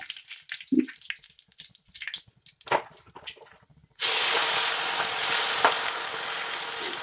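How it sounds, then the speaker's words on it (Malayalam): Chicken frying in a pan with curry leaves starts in an instant loud hiss about halfway through, after a stretch of quiet kitchen clatter, and then keeps up a steady close sizzle. "ചിക്കനൊക്കെ വേഗം പൊരിച്ചെടുക്കട്ടെ കേട്ടോ"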